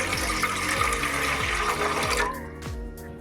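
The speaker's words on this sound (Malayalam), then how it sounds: "അപ്പോൾ അതിലോട്ട് നമുക്ക് 2 കപ്പ് വെള്ളം ഒഴിച്ചു കൊടുക്കാം." Two cups of water pour steadily into a cooking pot while making a sweet rice-flour dumpling dish, a continuous close splashing stream whose pitch shifts as the pot fills, thinning out near the end.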